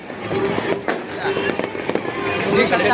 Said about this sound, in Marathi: किती फटाके फोडतात बघा